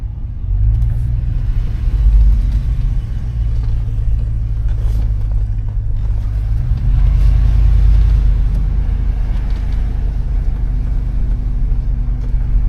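A 2000 Chevrolet Tahoe drives on the road, its engine a heavy low rumble that swells as it accelerates around midway, with steady road and cabin drone and no talking.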